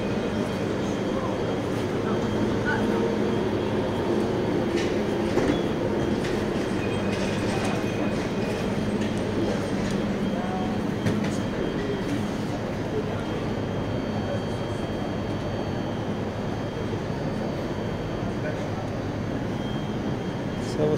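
A long train rumbles steadily past at close range in Paris, wheels clattering on the rails with occasional metallic squeals, and people talk faintly beneath the noise.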